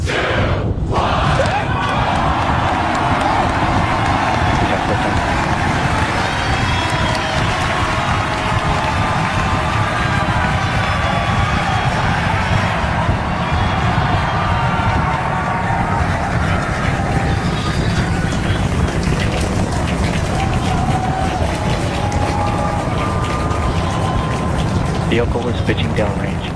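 A SpaceX Starship Super Heavy booster lifts off on its Raptor engines, a massive continuous roaring rumble that stays loud and broadband throughout, heard from a distance with crowd noise and a commentator talking over it.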